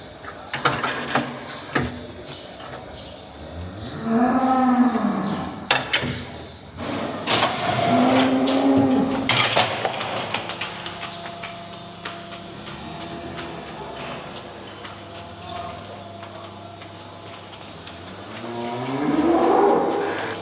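A cow walking out after being shod on both hooves for hoof problems, with loud mechanical clanking and rattling from the handling crate and a few low moos, heard close by.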